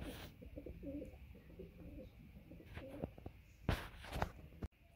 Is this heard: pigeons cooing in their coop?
yes